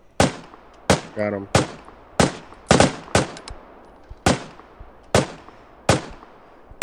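Gunfire in the shooter game Deadside: a string of loud, sharp single shots spaced roughly half a second to a second apart, close and punchy, with brief voices talking between them.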